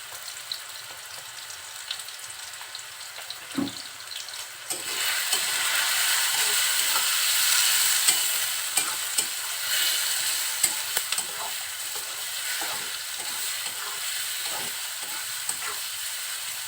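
Fish roe frying lightly in a pan with salt and turmeric, a few faint scrapes first, then a strong steady sizzle that swells and holds with occasional utensil clicks.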